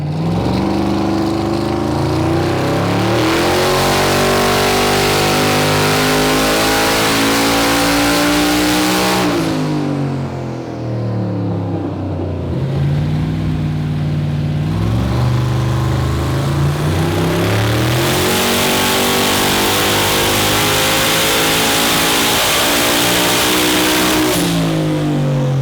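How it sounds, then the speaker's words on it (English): Open 4-inch exhaust on a drag car engine, mufflers removed, revving hard through repeated ramp runs on a dyno, a loud sustained roar rising and falling in pitch across several long pulls. "by uncorking the exhaust, taking the twin 3-inch system off on the mufflers and just running the 4-inch zoomies, we'll give another couple of ramp runs"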